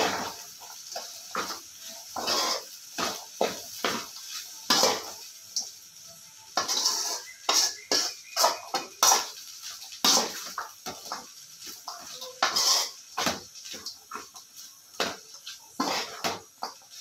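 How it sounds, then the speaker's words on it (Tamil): A spoon stirs egg noodles with red chilli sauce in a pan, giving repeated scraping and clinking strokes in an uneven rhythm, close and fairly loud. "நெக்ஸ்ட்டு பார்த்தீங்கன்னா இதை கொஞ்சம் கலந்து விட்டுக்கலாம்."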